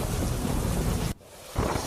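Heavy downpour with thunder in Vijapur: a loud, steady roar of rain and rumble that cuts out abruptly for a moment, then resumes at full strength.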